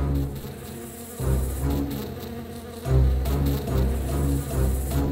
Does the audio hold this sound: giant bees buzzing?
yes